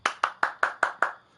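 Six crisp hand claps in a steady, even rhythm, close and alone with no other sound, each clap sharp and quickly decaying.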